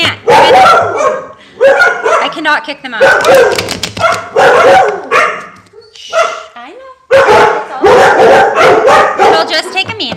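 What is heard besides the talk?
dogs barking at the trash man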